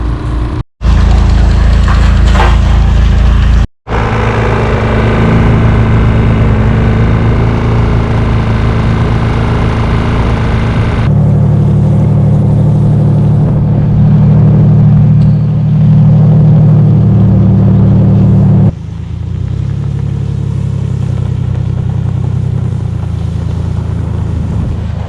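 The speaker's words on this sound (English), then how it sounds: "We have the pump running off of our generator, which we have up front here." A generator runs a water pump outdoors in -20° winter cold, giving a loud, steady engine drone with wind rumble that carries on continuously and shifts in tone partway through.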